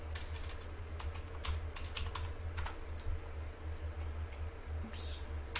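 Fingers typing on a computer keyboard, a quick, uneven patter of light key clicks over a steady low hum, close but fairly quiet, with no talking.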